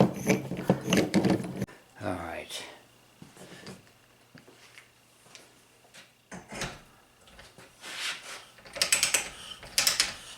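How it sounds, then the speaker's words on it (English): A plumber's pipe reamer deburring a VW shifter shaft, with bursts of ratcheting, scraping metal clicks and twists, close up, separated by quieter gaps. "This is a pipe reamer. It just makes it real quick and easy."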